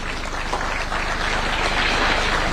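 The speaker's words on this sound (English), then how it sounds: "A round of applause." Audience applause fills the conference hall at the Kenya Health Summit at KICC in Nairobi, a dense, even patter of clapping that holds steady and slightly swells, with no talk over it.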